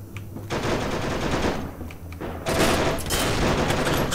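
Rapid automatic gunfire in a first-person shooter game, loud sustained bursts that start after a quiet moment, ease briefly, then return even heavier and more intense.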